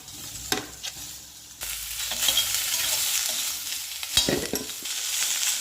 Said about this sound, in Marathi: आता आपण त्याच्यामध्ये हे शेंगदाणे फ्राय करून घेऊया